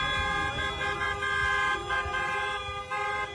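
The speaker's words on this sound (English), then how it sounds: "The cars are all honking." Several car horns honking on a street during a roadside confrontation, steady overlapping toots and longer blasts mixed with traffic rumble, moderately distant and fairly quiet.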